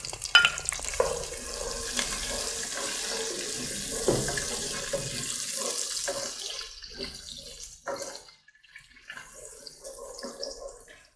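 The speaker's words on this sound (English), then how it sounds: "We'll use it to fry the egusi for 2 minutes." Egusi and chopped onions frying in a hot pot of oil, a steady broadband sizzle with stirring scrapes and clatter, loud at first and then easing and turning more intermittent toward the end, with no talking.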